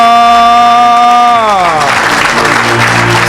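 A church congregation bursts into loud, dense applause and cheering, swelling in over sustained voices and then filling the room as continuous clapping.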